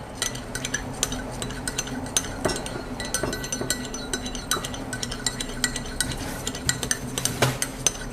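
A 16 oz iced cold brew latte made with cold brew and milk syrup is mixed, with a spoon clinking and scraping steadily against the cup, close and fairly quiet.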